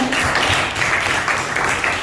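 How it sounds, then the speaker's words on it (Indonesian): Students in a classroom give a short burst of clapping, quick close hand claps in a brisk, slightly uneven rhythm filling the room for a couple of seconds. "tepuk tangan untuk Rahman."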